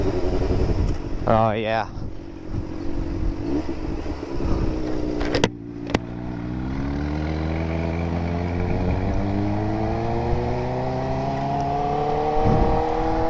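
Loud motorcycle with a ported head and aftermarket exhaust droning and revving up close, its pitch rising and falling, with a truck rumbling along just behind; someone speaks briefly over the engine noise.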